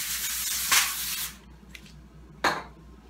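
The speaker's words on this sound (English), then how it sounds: "I'm going to spray the inside there with just a little bit of cooking spray" A long hissing burst of cooking spray into a pan, then a short second spray puff, close by in a quiet room.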